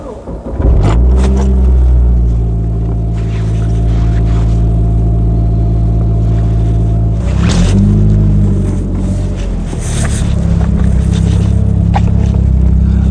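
A Saab 9-5 Aero engine cranks and catches, then settles into a loud, steady idle with a brief rev partway through, close up inside the car.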